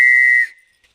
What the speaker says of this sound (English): that actually is a police whistle